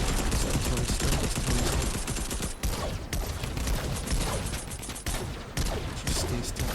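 Rapid automatic gunfire in the Fortnite video game, aimed at Iron Man during a Fortnitemares match, rattles on loud and dense almost the whole time, with a few short breaks.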